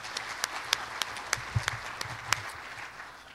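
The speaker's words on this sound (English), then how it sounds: "Please welcome Mr. Adrian Smith with your applause." At a skyscraper conference in Seoul, an audience applauds as a speaker is welcomed, a faint, distant patter of many hands with sharper individual claps standing out across a few seconds.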